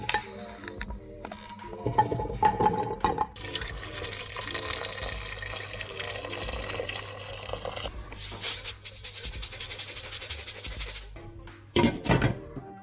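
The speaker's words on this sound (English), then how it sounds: "get our water in, away we go" Water poured from a tap into a pot for sous vide cooking, a steady rushing fill that runs for several seconds with kitchen clatter before and after and a brief bump at the end.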